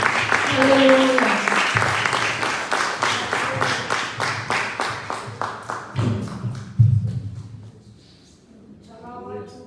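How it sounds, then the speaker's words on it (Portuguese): A church congregation claps in a steady rhythm, fairly loud and close, with voices mixed in, then the clapping tapers off as a quieter voice continues. "Aplauda o Senhor"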